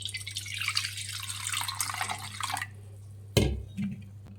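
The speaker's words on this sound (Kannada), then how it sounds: "ಈ ಟೊಮೊಟೊ ಬೇಯಿಸಿರೋ ನೀರೆಲ್ಲ ಸಪ್ರೇಟಾಗಿ ಎತ್ತಿಕೊಳ್ಳಿ" Tomato cooking water for rasam being poured off into a separate vessel, a soft close trickle of liquid for a few seconds followed by a light clink of the pot.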